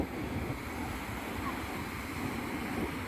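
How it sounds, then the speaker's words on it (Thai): Sea waves on a shore, a continuous dense roar of surf with wind buffeting the microphone, steady and loud throughout the short stretch. "เสียงคลื่นดังสนั่นเลย"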